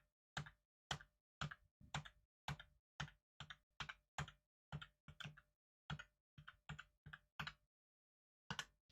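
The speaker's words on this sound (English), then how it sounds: "I'm going to slam my keyboard keys so you can kind of hear this through the mic" Sharp, distinct keyboard key presses tap out in a quick, slightly uneven rhythm, close and clear against silence, about twenty strokes.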